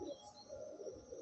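Madrasi pigeons, older breeder birds, coo softly in a loft at Basirhat, their low rolling calls repeating in slow overlapping waves against a steady background hiss.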